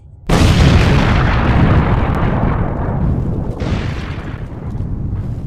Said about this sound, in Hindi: एक बहुत बड़े धमाके की आवाज आई।